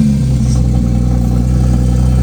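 A 2025 Porsche 911 GTS (992.2) runs loud and close in sport mode, a steady deep engine drone with no pauses or talk.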